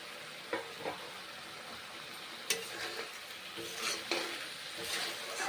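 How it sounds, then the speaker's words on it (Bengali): Fried rohu fish pieces go into a pan of sizzling spice masala, giving a soft steady crackle with a few light clinks and stirring knocks, close but fairly quiet, with no talking. "মাছ ভাজাগুলো এখন দিচ্ছি কষে নেওয়া মশলাতে"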